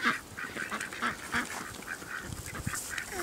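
Muscovy ducks call repeatedly, a string of short, rhythmic, breathy honks close by that fade slightly toward the end.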